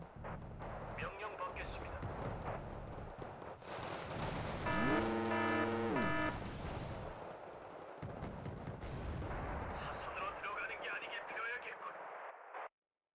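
Artillery fire in Wargame: Red Dragon, with heavy booms and rumbling battle noise over several seconds, a rising siren-like tone in the middle, and someone talking throughout.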